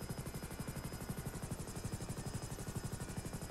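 Helicopter in GTA V, a steady rapid rotor thump with a whining turbine hum, continuous and fairly close, heard alone without talking.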